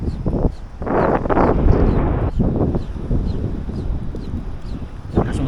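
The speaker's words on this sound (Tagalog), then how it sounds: "Lakas yung hangin mga kauno." Strong wind buffets the microphone in loud, rumbling gusts while net fishing, with faint bird calls faintly audible beneath the roar.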